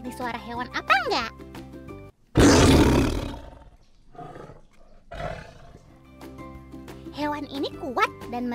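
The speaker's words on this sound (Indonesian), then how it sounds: "itu suara harimau" A tiger gives one loud, deep roar that trails off into rumbling growls, set between stretches of bright cartoon music and sound effects.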